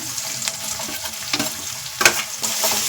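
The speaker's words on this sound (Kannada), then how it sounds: "ಈಗ ನಾವು ಕ್ಯಾಪ್ಸಿಕಮ್ ಮತ್ತು ಟೊಮೆಟೊನ ಎರಡನ್ನೂ ಹಾಕೊಳ್ಳೋಣ" Capsicum and tomato frying with browned onion in a pan, with a steady sizzle and a few stirring scrapes and clatters, one louder clank near the end, no voices.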